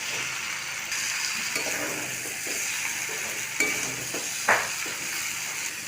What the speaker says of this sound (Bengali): ভেজে রাখা ইঁচড় ও আলু দিয়ে দেবো মশলার মধ্যে, খুব ভালো করে নাড়াচাড়া করে কষিয়ে নেব।